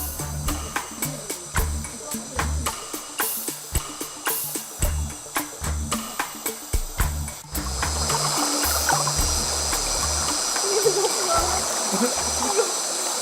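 River water rushes and splashes as people wade across, with rhythmic sloshing steps at first, then a steadier, louder wash of flowing current.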